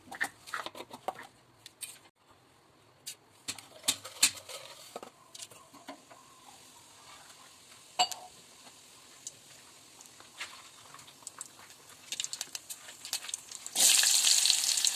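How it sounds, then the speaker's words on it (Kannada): Cumin and mustard seeds crackle in hot oil during tempering, scattered sharp pops and patters against a quiet background, with a louder burst of sizzling near the end. "ಜೀರಿಗೆ, ಸಾಸಿವೆ ಒಗ್ಗರಣೆ ಕೊಟ್ಕೊಂಡು"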